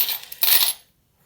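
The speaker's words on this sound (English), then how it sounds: "think this one's one of the French states coins with the double-sided axe" A French 1 franc coin drops onto a hard surface with a bright metallic clatter and a short ringing tail that fades out quickly into silence.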